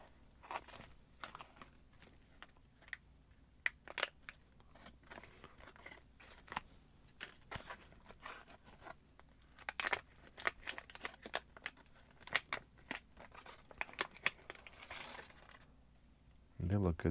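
A cracker package from a 1996 MRE ration bag is handled and opened with quiet, scattered crinkling, tearing and crackling bursts of plastic wrap, with a louder rustle at the end.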